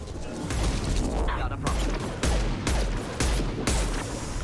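Gunfire from a weapon in Mass Effect 2, dense bursts of shots and impacts mixed with explosive crashes and battle noise, loud and continuous, with a voice speaking over it.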